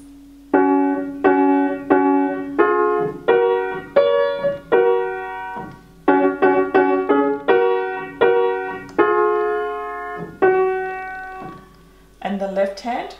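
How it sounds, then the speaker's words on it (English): Piano plays the hymn Nothing But the Blood with melody and alto together in the right hand, steady phrases of paired notes close up, clear and alone with no talking. "We'll be playing the melody and the alto in the right hand, so it'll sound like this."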